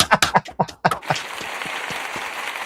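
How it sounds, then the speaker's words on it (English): A soundboard applause effect fires after a second of someone talking, a steady wash of crowd clapping and cheering that holds evenly until the end. "Cheeto, hit me with that applause button."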